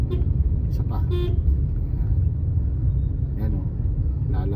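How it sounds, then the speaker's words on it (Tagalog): Short car horn toots sound from inside a moving car during a driving lesson in traffic, over a constant low engine and road rumble, with an instructor talking. "Busina ka. Isa pa."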